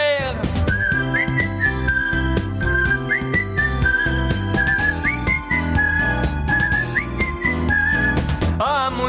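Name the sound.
human whistling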